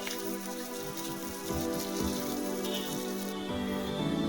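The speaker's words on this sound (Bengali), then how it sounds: "পেঁয়াজ রসুন একসঙ্গে মিডিয়াম ফ্লেমে হালকা লালচে করে ভেজে নেব" Onion and garlic paste fries in a pan over a medium flame, giving a soft, continuous crackling sizzle close by. The sizzle swells slightly as it is stirred.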